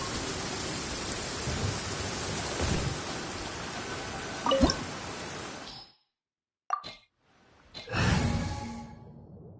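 Steady rain pours in the Genshin Impact game world, a dense broadband wash with a brief sharp crack near the middle, then cuts to near silence before soft spatters and a renewed burst of rainfall return.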